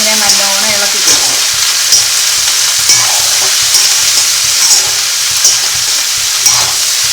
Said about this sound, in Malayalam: ഇതിനെ നല്ലോണം ഇളക്കി കൊടുക്കും.